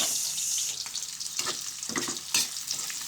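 Onions sautéing in a hot pan until reddened, a steady close hiss of frying with a few stirring scrapes running through it, loud and continuous, with no voices.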